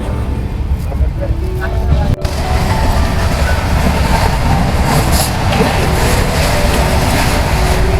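Inside a long-distance Pune to Howrah express train at night, a loud continuous rumble and roar of the carriage running on the rails, with a brief dropout, people talking under the steady noise throughout.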